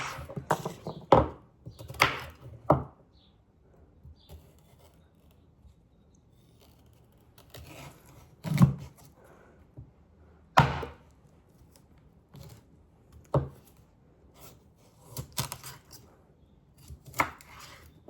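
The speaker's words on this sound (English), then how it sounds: "I'm gonna cut them in chunks." Knife chopping vegetables into chunks on a cutting board for a chicken stew with white wine, heard as scattered sharp thunks in irregular bursts with quiet pauses between, close and moderately loud.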